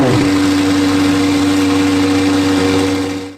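A McLaren 720S under crash repair has its engine running at a steady idle, a loud even hum with a sharp start at the beginning and an abrupt cut at the end.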